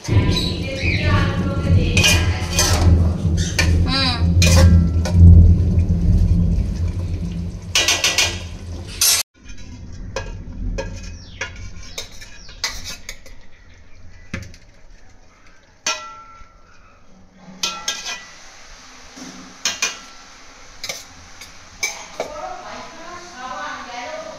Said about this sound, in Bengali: এইবার আলুগুলো দিয়ে দিচ্ছি, ঘেটেই দিচ্ছি।